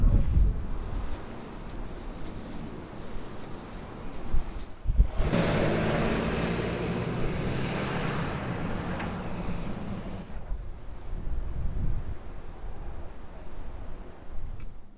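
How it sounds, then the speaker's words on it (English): Wind gusts across an open overland camp spot, a steady broadband rush that swells louder in the middle and then eases back, with low rumbling buffeting on the microphone and no voices. "the wind was indeed blowing the wrong direction"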